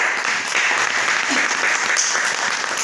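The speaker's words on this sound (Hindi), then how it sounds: "और एक बार गुरुदेव के लिए भी मैं तालियां बजाना चाहूँगी" An audience at a seminar claps for Gurudev, a dense, steady wash of many hands filling the room at close range with no break, a faint voice buried beneath.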